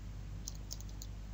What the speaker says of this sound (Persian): نام رو اینجا من میام تایپ میکنم